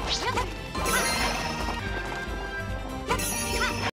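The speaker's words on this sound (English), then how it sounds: "Now we're in a horse chase." Horse hooves clatter during a horse chase in the video game Princess Peach: Showtime, with busy galloping beats under game music, crashes and a neigh, loud and continuous with no talking.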